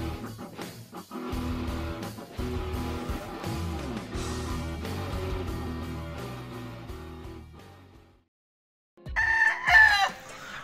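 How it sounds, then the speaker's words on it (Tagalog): Chickens cluck and a rooster crows in a farmyard, the crowing heard loud and near over a busy tonal backdrop, then after a brief silent gap a sharp burst of crowing and clucking returns at the end. "lahat ng manok na yan, mula dyan hanggang doon,"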